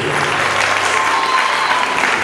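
An audience at a sale gathering applauds in a dense, steady wash of clapping that holds at an even level throughout the short stretch.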